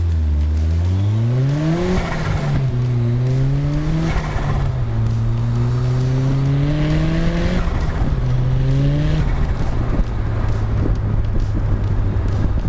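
A Mazda turbo touring car pulls hard on an open road, its engine climbing through several gears in rising sweeps with quick shifts between them before settling into a steady cruise, loud and close with no talk.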